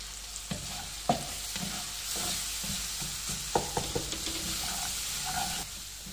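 Lamb liver sizzling in a pan with tandoori masala, stirred by a utensil that scrapes and taps the metal several times over a steady frying hiss, close and fairly loud.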